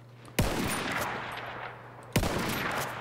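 Gunfire in the Battlefield 1 video game: two sharp, loud shots or bursts about two seconds apart, each trailing into a rumbling echo over a steady hum.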